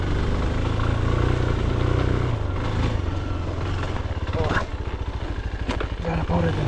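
A CFLite Dual 250 motorcycle rides through sandy ground, its engine droning loudly up close and rising and falling with the throttle, while a rider's voice is heard over it.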